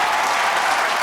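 Loud, dense applause from a TV game show studio audience fills a brief moment, steady and close with no pauses.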